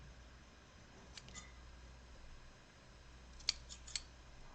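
Scissors snip the tails of a ribbon bow in a few quick, crisp cuts, a pair early on and a cluster later, close and quiet against a hushed room with no speech.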